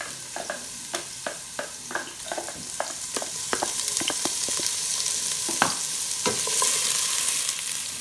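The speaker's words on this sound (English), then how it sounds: "we're going to sweat down the onions and the garlic" Onions and garlic sweat in a pan for a Moroccan butternut soup, a soft continuous sizzle broken by a run of sharp, irregular stirring scrapes and knocks, close and fairly quiet.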